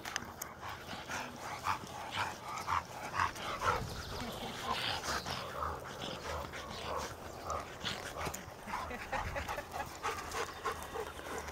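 A dog pants rapidly and steadily close by, breathy rhythmic puffs continuing throughout with some faint outdoor noise.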